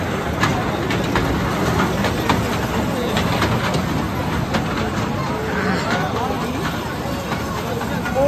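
A fair ride train at the Dhariwal craft bazaar rumbles and clatters steadily as it moves, mixed with a dense fairground hubbub and nearby voices talking throughout.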